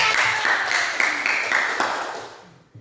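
A classroom of students claps for a group that has just presented, a dense, close patter of hands that gradually thins and fades out toward the end.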